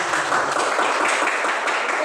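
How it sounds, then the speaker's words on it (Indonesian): A brief burst of applause from a small group, dense and steady clapping that fills the moment without pauses. "Tepuk tangan untuk kesimpulan"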